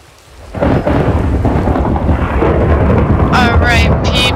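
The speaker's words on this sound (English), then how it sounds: "It's raining. The rain saved me." Heavy rain and a loud, close rumble of thunder in a survival video game, starting quietly and then bursting into a sustained downpour with crackling thunder and no talk.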